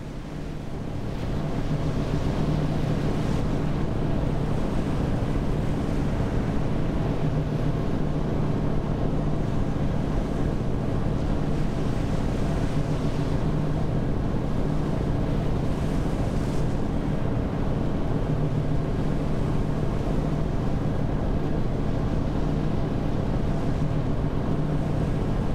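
Speedboat in the NAUTIS Home Ship Simulator game running across Sydney waters, a steady loud roar of engine and rushing water with wind noise, unbroken throughout and no talk.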